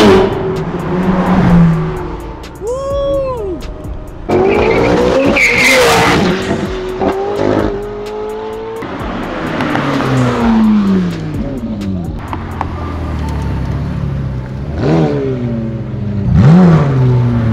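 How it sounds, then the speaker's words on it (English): A McLaren 720S and Ferrari supercars, including a 488 Pista and an F8 Tributo, roar through drag-race runs with loud rising revs, shifting engine pitch, tire squeal and cars sweeping past, near and intense for the whole stretch. "That's a lot of horsepower going there, Dari."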